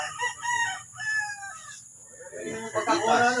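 A rooster crows loudly nearby at a game farm, followed by hens clucking, with a steady hum in the background.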